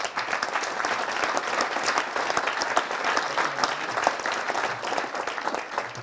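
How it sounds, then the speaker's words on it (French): Sustained applause from an awards ceremony audience, a dense steady wash of many hands clapping with scattered sharper claps, no talk over it. "je pense que vraiment on peut les applaudir"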